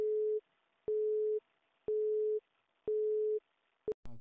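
Telephone busy signal after a dialed call: four evenly spaced steady tones, each about half a second with equal silences between, clear and alone, followed by a brief clipped click at the end.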